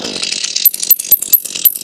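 A Bilt Hard chainsaw, already warm with the choke off, revs loudly and close by in quick repeated bursts of high-pitched buzzing.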